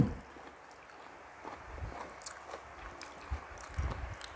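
Crispy roasted German pork knuckle chewed close to the mic, with soft crunchy bites and moist chewing in an irregular rhythm at low volume.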